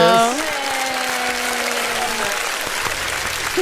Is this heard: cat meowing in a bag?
no